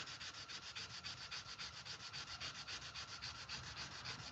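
Fine 1000-grit sandpaper rubs across a Case Sodbuster knife handle in quick, even back-and-forth strokes, a soft, close, rhythmic scratching that goes on with no pauses.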